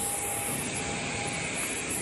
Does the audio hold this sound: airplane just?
yes